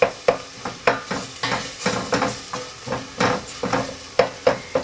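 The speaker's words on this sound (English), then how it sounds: "So we're just going to stir that around." Garlic and onion sizzle in melted butter as a utensil stirs the pan in steady, repeated scraping strokes, about two per second. The strokes are close and clear over a soft frying hiss, with no talk.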